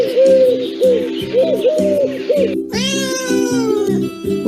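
A cat meows repeatedly in short rising-falling calls, close and clear, then gives a longer, higher wailing meow.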